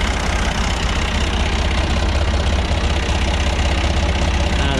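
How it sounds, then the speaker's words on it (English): A small Ford tractor engine idles steadily in a barn while pushing hay, a loud continuous low rumble with a slight knocking throb and no pauses. "The joys of a small enough, light enough tractor."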